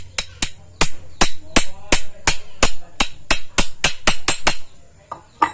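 Sharp metal hammer strikes on the gearbox bearing of a lawn mower, about eighteen loud, close blows in a quick uneven rhythm with short pauses, no talking.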